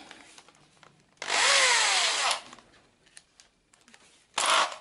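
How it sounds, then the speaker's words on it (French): Drilling 2 mm holes into a Citroën Traction 11B car wing: two bursts of a power drill biting into the metal, a long one of about a second and a short one at the end, with quiet handling noises in between. "Et ce coup-ci, je perce définitivement."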